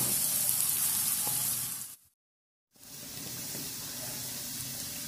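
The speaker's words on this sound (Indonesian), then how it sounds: "Nah, kita tumis ini hingga harum, nanti baru kita masukkan sayurnya." A blended paste of garlic, chili, asam sunti and coconut sizzles steadily in hot oil for an Acehnese fern dish, loud and close, cut by a brief silent gap before the frying hiss resumes.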